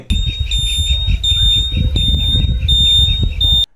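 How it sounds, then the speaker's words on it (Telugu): A shrill electronic turn-signal buzzer on a 2025 TVS XL100 Heavy Duty Winner Edition moped beeps in a rapid, regular on-off pattern close by, over a low mechanical rumble, then stops. "ఇన్బిల్ట్గా ఈ సిగ్నల్ లైట్స్కి బజర్ అయితే ఇచ్చారు"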